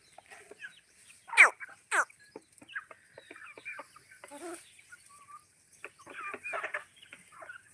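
Desi country chickens on a poultry farm cluck and squawk in scattered bursts, with a couple of sharp, loud calls early on and softer clucking continuing throughout.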